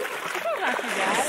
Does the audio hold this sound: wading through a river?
yes